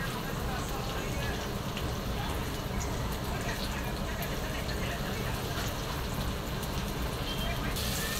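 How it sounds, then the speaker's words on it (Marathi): Okra frying in a pan, a steady, close hiss and crackle of oil that runs without a break, with a faint voice under it. "बघा कशी आपली भेंडी फ्राय होत आहे बघा."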